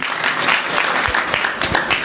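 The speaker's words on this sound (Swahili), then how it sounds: "Mheshimiwa Ntabu, makofi kwake tafadhali" Applause from an audience at a county government youth program launch, honoring the county secretary, a dense steady burst of many hands clapping throughout.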